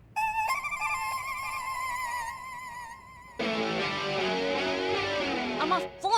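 A telephone rings indoors with a bright electronic ringtone that repeats in regular bursts before shifting partway through to a denser, buzzier warbling tone, all without speech over it.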